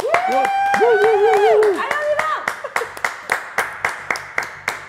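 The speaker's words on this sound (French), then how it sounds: "on va les applaudir" A studio audience applauds two guests on a French show. Whoops and sung, wavering voice tones ride over the clapping at first, then it settles into loud, evenly spaced rhythmic claps in unison.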